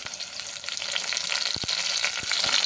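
Onion, green chillies and curry leaves fry in a pan with a loud, bright, continuous sizzle that builds a little over time, with a few close stirring scrapes and taps partway through.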